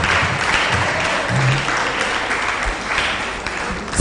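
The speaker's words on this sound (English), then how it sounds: "Ladies and gentlemen, please clap for them as they go to their seats." Audience at a Faculty of Science conference clapping for speakers as they return to their seats, a dense, even patter of many hands sustained throughout with faint murmuring underneath.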